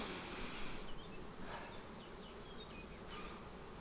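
Honeybees buzz around hives at a village apiary in Hopa, Artvin, a dense close-up swarm drone with individual bees zipping past, a few brief louder passes rising over the steady hum.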